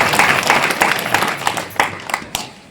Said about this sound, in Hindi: बच्ची के लिए जोरदार ताली बजा करके